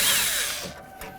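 A power drill running briefly on a bolt in a 1988-2002 GMC Sierra 1500 door, a loud close high-pitched whir that spins down over about a second.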